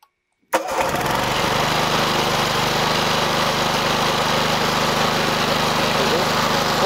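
The engine of a DNG-2000 automatic hose reel for pesticide spraying starts by remote with a sudden burst after a moment of silence and settles into a loud, steady roaring run.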